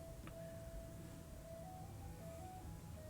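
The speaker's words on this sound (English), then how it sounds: "can hear an ice cream truck outside" A faint, thin jingle from an ice cream truck plays outside in the evening, a steady tone that wavers through the whole short stretch over a low background hum, with no talk.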